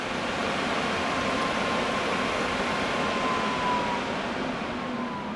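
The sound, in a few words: Acer Predator Orion 7000 desktop PC cooling fans ramping up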